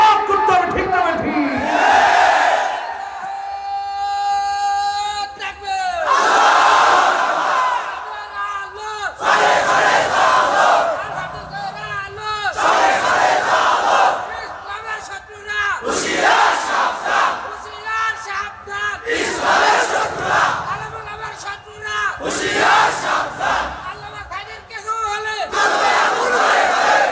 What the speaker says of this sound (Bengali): এই যে আমরা স্লোগান দিলাম আল কোরআনের আলো